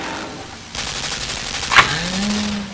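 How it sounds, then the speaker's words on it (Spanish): A burst of machine gun fire in the dark puzzle-platformer Limbo rises against a low rumbling game backdrop, with a sharp crack near the middle and a steady mechanical hum trailing after it. "Una ametralladora."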